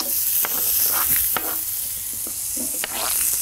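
Sliced apples with their skins on, about three apples to a frying pan, sizzle and fry while being stirred during camp-style cooking outdoors, a steady close hiss broken by scraping clinks and stirring knocks.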